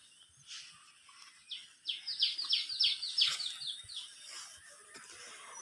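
Red-vented bulbul calling outdoors among flowering plants, a quick series of bright, sweet chirping notes in a short burst near the middle, moderately close and clear over quiet background with faint low rustles.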